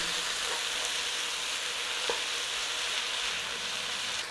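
Sliced leeks seasoned with salt and pepper frying in a pan for Welsh enchiladas, a steady close hiss of sizzling moisture with a couple of faint stir clicks, no voices.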